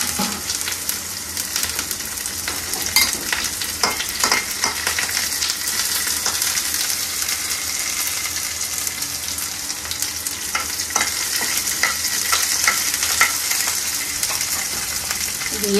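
Chopped ginger, dried red chili and green chili fry in a pan with a strong, continuous sizzle close to the listener. Frequent light clicks and taps from stirring run over it, with no talk.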